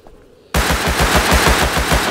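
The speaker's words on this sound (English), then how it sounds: "Oh, I hear fucking hardcore gunshots." Video game gunfire erupts abruptly after a quiet moment, a rapid, steady automatic burst of loud shots continuing without pause to the end.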